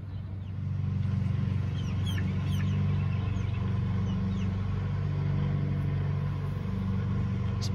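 Three-week-old chicks peep and chirp outside their carrier in a few faint, high, scattered calls over a loud, steady low rumble, with no talking.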